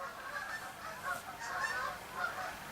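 Geese flying overhead give a series of nasal honks, moderately distant and repeated several times over a few seconds against quiet background air.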